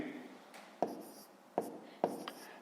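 Pen writing numbers by hand on paper, with soft scratchy strokes and three sharp taps as the pen meets the page, close and quiet, with no talk.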